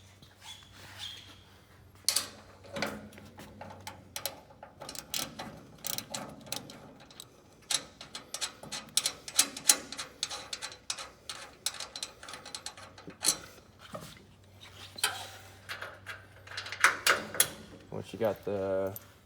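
Nut and bolt hardware being removed from a PowerVac dolly on a Grasshopper mower, heard as dense, continuous metallic clicking and ratcheting with rattles and jangles, fairly close, with occasional speech.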